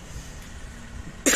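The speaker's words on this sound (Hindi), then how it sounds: "खांसी भी होगी" A single short, sharp cough bursts out at the very end, loud and close, after a stretch of quiet low background noise.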